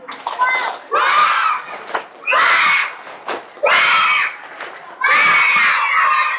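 Children packed into a hall at a storytelling event shout and scream together in four loud, sustained bursts, each separated by a short lull.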